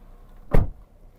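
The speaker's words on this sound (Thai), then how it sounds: "ขออนุญาตปิดประตูนิดนึงนะคะ" A single solid thud as the door of a 2023 Toyota Yaris Ativ 1.2 Smart is shut, close and brief, with little else around it.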